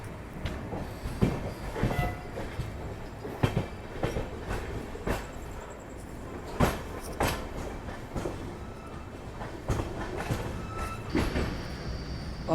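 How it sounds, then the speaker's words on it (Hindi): Amrit Bharat Express train running on the route toward Lucknow, with a steady rumble and repeated rhythmic clacks of wheels over rail joints, close and continuous. "हमारी ट्रेन बढ़ चुकी है अपने लखनऊ वाले रूट पर"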